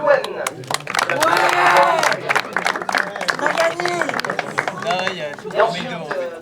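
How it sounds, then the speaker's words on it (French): A small crowd at a karting prize ranking for Rotax drivers applauds a named driver, clapping in a lively burst while an announcer keeps talking over it. "vous allez pouvoir applaudir"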